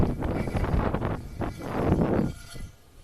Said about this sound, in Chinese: 看这玩意儿都被吹得呼呼的响啊